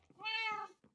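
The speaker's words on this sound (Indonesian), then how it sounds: "tiba-tiba gua melihat ada kucing" A single short meow from a cat in the video game Minecraft, fairly quiet and clear, with no talking over it.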